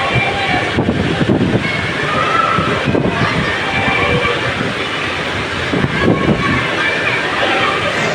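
Heavy rain pours while strong wind roars in a sudden Cavite downpour, a constant, dense hiss with gusting surges, and a voice is faintly heard beneath it.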